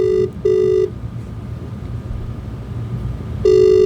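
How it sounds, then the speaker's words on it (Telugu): An outgoing phone call rings back with three loud, even electronic ring tones separated by a long gap of quiet line hiss. "ఒక్కసారి ఫోన్ కాల్ చేసి చూద్దాము"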